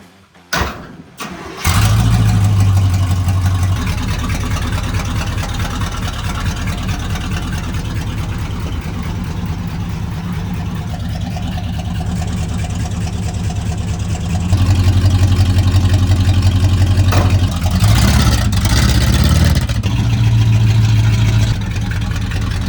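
An old truck engine with its mufflers cut off cranks and catches after a brief pause, then runs loud and raw at a steady idle, with a couple of throttle blips near the end, close up and without talk.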